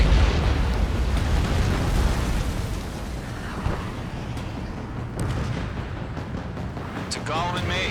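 Missile explosions in the Ace Combat 7 air combat video game, a continuous rumbling roar of blasts and bursts with scattered sharper pops, loud and dense throughout, with faint radio-style chatter near the end.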